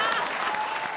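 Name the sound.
audience applause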